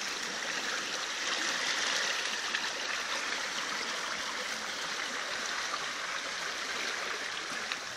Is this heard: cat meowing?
no